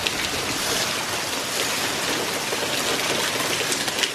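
Rain pours steadily through an open wall into a house under renovation, a dense, even hiss of falling water and splashing drops that stays loud and unbroken throughout, with no one speaking.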